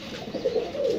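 Wild pigeons coo in low, throaty murmurs, several birds close by, with a soft continuous rustle of ambient noise underneath.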